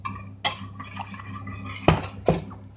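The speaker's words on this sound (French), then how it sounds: "on peut juste remuer comme ça" A spoon stirs a sauce in a saucepan while making a truffle ham and Saint-Nectaire croque-monsieur, giving soft scraping with a few sharper knocks against the pan's sides, close and alone without talk.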